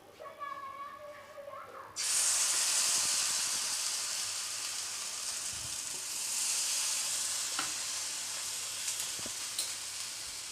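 Dosa batter hits a hot, oil-brushed tawa with a sudden loud sizzle after a quiet start, then fries in a steady, bright hiss that holds strong to the end with a few small crackles.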